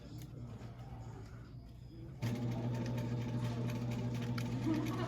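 Sewing machine stitching a 5/8 seam on a romper starts up after a quiet moment and runs in a steady rapid whir, close and continuous, with faint rustling before it begins.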